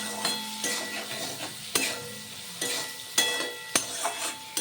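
Chopped tomato tossed into frying spiced dal in a pan gives a soft sizzle, overlaid by repeated stirring scrapes and sharp clacks of a spatula against the pan.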